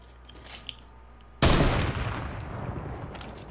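A burst of video-game gunfire from a slow-firing gun in Fortnite starts abruptly partway through, a loud dense volley that keeps rumbling to the end after a quiet opening.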